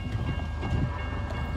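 Low rumble of a northbound Norfolk Southern freight train approaching a grade crossing, a steady mid-level drone with faint rail rattle and no talk.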